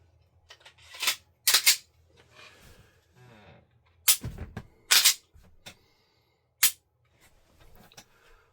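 Several sharp gunshots from a Gen 3 Glock 19 pistol crack out one at a time at irregular intervals, loud and close, each with a short decaying tail and no talking between them.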